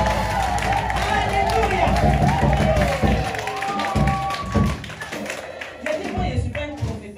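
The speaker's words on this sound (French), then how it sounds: "acclame encore plus fort" A church congregation claps and cheers loudly during a service. The sound is steady and crowd-filled, and voices shout through it.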